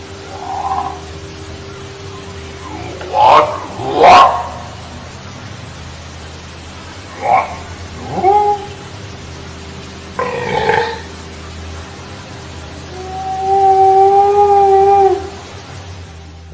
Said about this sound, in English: Talking of Sasquatch, this is a recording of the said creature, and the audio was recorded back in 1983.